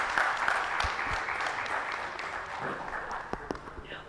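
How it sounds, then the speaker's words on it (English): Audience applause fills a lecture hall at the close of an oration lecture, a steady dense clapping that holds evenly throughout and thins slightly near the end. "Big round of applause for the sir."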